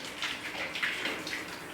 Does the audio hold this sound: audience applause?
no